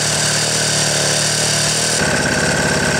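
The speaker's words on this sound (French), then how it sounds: "Sans ça, il tourne nickel. Le moteur vibre." A Solex 6000 moped engine, freshly rebuilt, runs steadily at idle with a constant mid-pitched drone and buzzing vibration, loud and close, with a slight shift in tone partway through and no talking.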